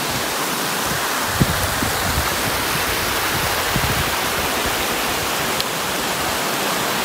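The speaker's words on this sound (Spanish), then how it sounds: "Miren lo que es aquella cascada." A waterfall pours down from Laguna Balcón in Tierra del Fuego, a steady, broad roar of falling water heard close and loud, with a couple of faint clicks and no voices.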